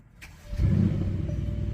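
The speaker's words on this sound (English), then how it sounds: "Nice aggressive bark from that V8 as we start it up." A Mercedes-AMG GLC63 V8 with the sports exhaust switched on fires up with a short, sharp bark, then settles into a steady, loud, close idle rumble. No one speaks over it.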